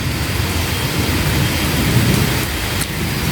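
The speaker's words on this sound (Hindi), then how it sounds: "देखिए बारिश, मूसलाधार बारिश हो रही है आज।" Torrential rain pours down in a dense, steady hiss, with deep thunder rumbling underneath, loud and close, with no talk over it.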